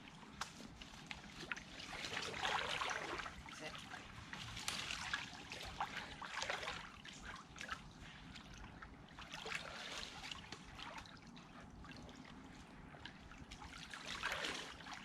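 Stream water splashes and gurgles steadily near the microphone as a bag is filled in the woods, with bursts of flowing liquid rising and falling throughout.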